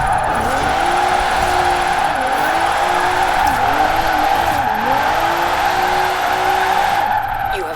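A 2016 Cadillac ATS-V AWD drifting in second gear in Forza Horizon 4, with a loud sustained engine drone and continuous tire squeal that wavers in pitch as the slide is held, no talking.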